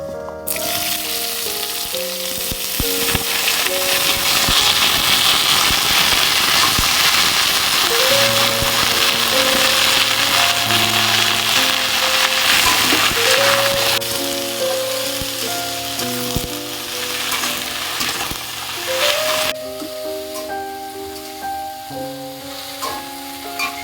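Vegetables hit hot oil already crackling with dried red chillies and panch phoron, a loud dense sizzle that holds steady, stirred now and then, with a tonal hum underneath and some faint background music.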